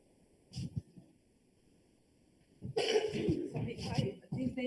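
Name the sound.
coughing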